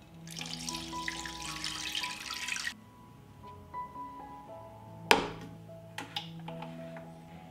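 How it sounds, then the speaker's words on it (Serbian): Water runs from a tap into a pot for boiling 500 g of chicken fillet, a steady close rushing pour lasting under three seconds, followed by a few light clinks and knocks of kitchenware. "I nalit ću vodu."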